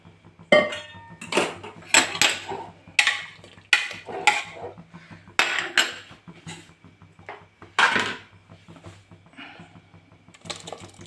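A series of clattering clinks and knocks of metal as cucumber pieces drop into a pressure cooker for Mangalore cucumber sambar, about a dozen irregular bursts with short pauses between.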